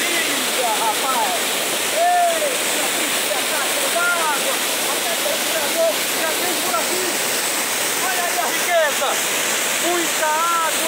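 Water overflows the spillway of the Açude Boqueirão reservoir in rural Sobral, Ceará, a loud, constant roar of rushing water with birds chirping repeatedly above it.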